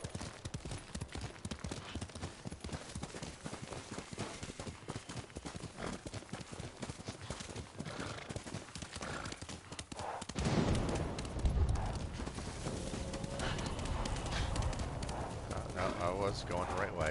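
Horse gallops in Ghost of Tsushima with rapid, steady hoofbeats throughout, close and prominent, shifting to a busier ride partway through, with someone talking over it.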